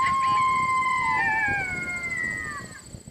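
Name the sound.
electronic caller playing coyote pup serenade howls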